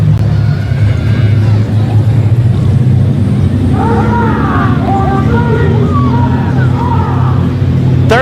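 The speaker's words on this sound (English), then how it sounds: "Hitting that rev limiter, plowing through." Scotty McNamara's mud bog truck plows through a deep mud pit at an Orangeburg mud bog, its engine roaring loud and continuous, bouncing off the rev limiter. An announcer's voice and crowd noise sit over the engine.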